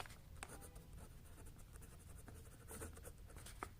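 Pen writing by hand on paper while solving a triangle angle-sum problem in a class math lesson, a steady close scratching of strokes running throughout without talk.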